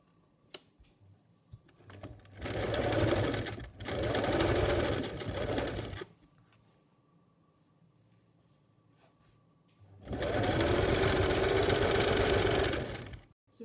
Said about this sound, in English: So first we're going to be stitching the front part.